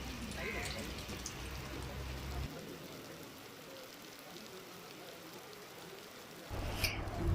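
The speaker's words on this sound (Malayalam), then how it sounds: "ഒരാവശ്യമില്ലാതെ പെയ്ത ഒരു മഴയായത്." Rain falls steadily at night, a dense, even hiss that stays continuous throughout, with a heavier low rumble at the start and again near the end.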